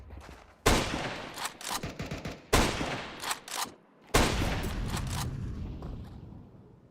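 Gunfire in a Counter-Strike esports match at IEM Krakow 2026, with a sniper in play. Three loud bursts of rapid shots ring out close by, with short gaps between them and a long sustained volley at the end.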